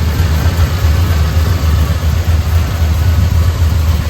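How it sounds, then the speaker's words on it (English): Ford 360 cubic inch V8 in a 1973 Ford F250 Highboy 4x4 pickup running at a steady idle, a loud, close, continuous low rumble with no talking. "Now what we have here is a Ford 360 cubic inch V8."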